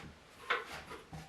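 A large wooden drawer sliding into a cabinet in a small workshop unit, a soft, brief rubbing glide with a light knock, quiet and close, no voices.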